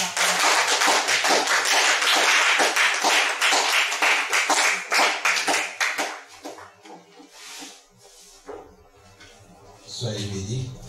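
A church congregation applauding during a French-language worship service, dense sustained clapping for about six seconds that thins out, followed by singing or talk and a brief voice near the end.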